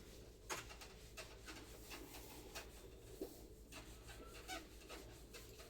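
Dry scrubbing of a duster across a classroom board, a rough rasping rub repeated in short irregular strokes over a low room hum, with no speech.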